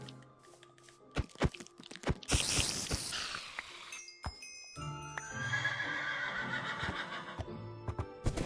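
A Minecraft horse whinnies loudly amid clattering hooves and crunchy game-like effects, with a rising, shrill neigh in the middle of busy, layered sounds.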